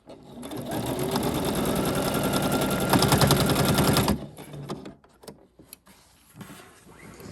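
A sewing machine stitches fabric for regalia in a fast, loud, continuous run of needle strokes, then stops. Scattered handling clicks and light rustling of cloth follow.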